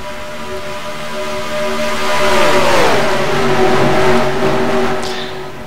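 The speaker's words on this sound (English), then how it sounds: "As the number 6 leads the pack, with Matt Hotchkiss on the 4 trying to pass" Stock cars race at Charlotte Motor Speedway in the NASCAR Racing 2003 video game, loud engines droning and revving as a car passes close with a falling pitch, a full pack roaring steadily behind.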